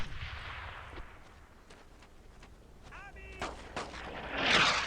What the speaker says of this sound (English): And we got some mortars.